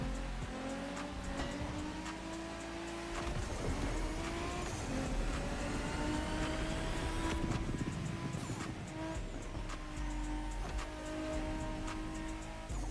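Car in The Crew Motorfest driven with a Fanatec wheel: a steady, loud engine drone rising and falling through gear changes, with tire noise and faint mechanical whines layered on top.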